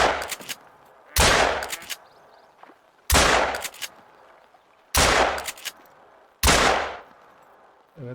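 Gunshots fired while hunting ducks in theHunter: Call of the Wild: about five loud, sharp blasts spaced a second or two apart, each trailing off in a rolling echo, with no talking.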